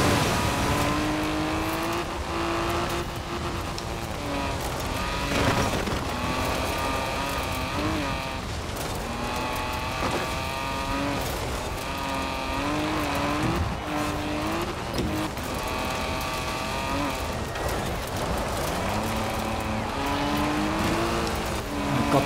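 Racing car engines from the Forza Horizon video game, with a Ford Capri in the race, drone and whine steadily for the whole stretch, their pitch rising and falling as cars accelerate and shift, loud and continuous.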